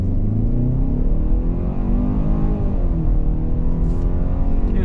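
A 2022 Hyundai Santa Fe SEL with AWD slows to a full stop, its steady engine and road rumble filling the cabin at a constant level with no clear change and no talking.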